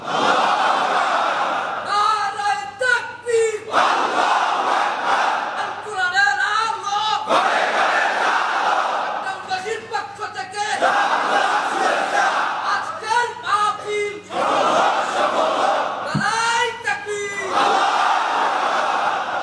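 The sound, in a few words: crowd chanting takbir, Allahu Akbar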